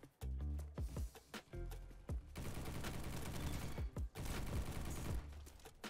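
Gunfire in Roblox Bad Business, likely from an L85 rifle: rapid bursts of automatic shots broken by short pauses, loud and close, with a long continuous stretch in the middle.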